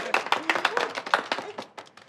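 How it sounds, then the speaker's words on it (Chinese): A small group applauds at a workplace, a brief burst of quick, close hand claps with a voice speaking over it. "鼓掌！"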